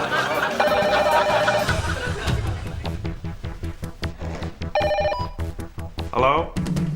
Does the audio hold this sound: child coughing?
no